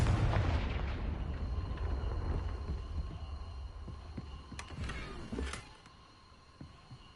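An explosive Confringo spell from Hogwarts Legacy opens with a deep booming blast whose low rumble slowly decays, with a few sharp cracks and thuds following as it fades.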